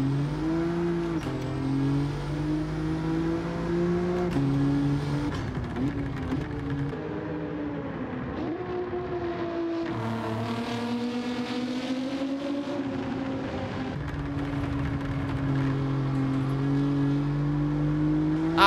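Engine of an Alfa Romeo Giulia GTAm in Gran Turismo 7, a continuous droning note that shifts pitch with gear changes and revving over an extended run, fairly steady and moderately loud.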